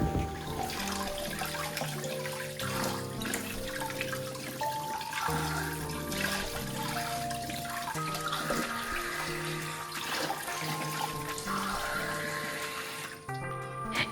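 Water pours and splashes over glasses being washed in a kitchen sink, a continuous close flow with clinks and gurgles. Music plays underneath throughout.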